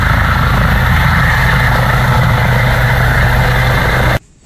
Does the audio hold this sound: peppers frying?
no